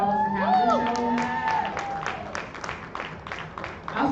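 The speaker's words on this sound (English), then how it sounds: "a huge round of applause for Bethel New Life" Audience at a music and fashion showcase clapping and cheering, with scattered whoops and shouts over steady applause, fairly close, with voices mixed in.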